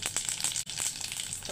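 Mustard seeds and cumin sizzle in a spoonful of hot mustard oil, a steady close crackling fry with small popping bursts throughout.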